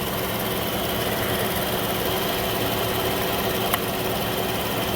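A Chrysler car engine idles steadily just after being started, a close, even, continuous rumble with a faint hum and one tiny tick near the end.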